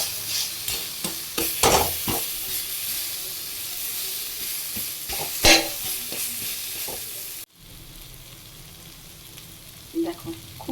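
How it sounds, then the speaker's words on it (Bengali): Taro leaves and a fried hilsa fish head sizzle in a pan while being stirred and broken up, with repeated sharp scraping strokes and a steady frying hiss up close, then quieter sizzling with a few soft stirs. "এর মধ্যে দিয়ে দেবো ভাজা রেখা ইলিশ মাছের মাথা। ভালো করে ভেঙে দিতে হবে।"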